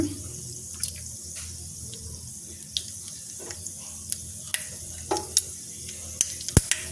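Mustard seeds spluttering in hot oil for a tempering, heard as scattered sharp pops and crackles, a few rapid and loud, over a low steady hiss.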